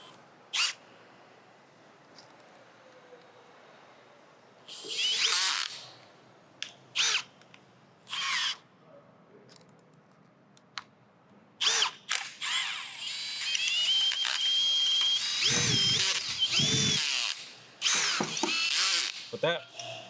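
An impact tool removes a 10 mm bolt from an engine bracket during a Honda S2000 Type R engine swap, with short repeated bursts of whirring and ratcheting separated by pauses, plus a longer high whine later; a person talks between bursts.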